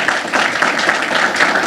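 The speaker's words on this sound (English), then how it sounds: "Let's give him a round of applause for his great leadership" An audience applauds a congressman at a political event on an urban agenda, a dense, steady wash of many hands clapping at close range, sustained and fairly loud throughout without any voices over it.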